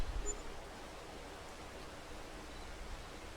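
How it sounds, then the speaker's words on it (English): Rain in the farming game Farming Simulator 22, a soft, even hiss of steady rainfall that holds constant and fairly quiet throughout with no other sounds. "Wish they wouldn't make it stay raining the whole time."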